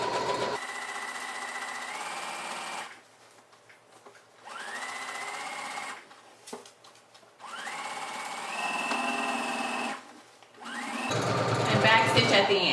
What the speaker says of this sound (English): we're going to sew straight down our stitch